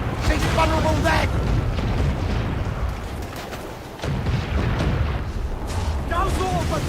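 Ship cannons fire in Assassin's Creed Black Flag during a naval battle. Heavy booms roll one after another in a dense, thundering barrage, with shouting crew voices in the mix.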